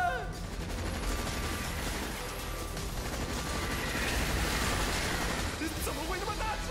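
Gunfire aimed at monsters in a video game, a loud, dense barrage of rapid shots that runs without pause for the full stretch, layered over busy game effects.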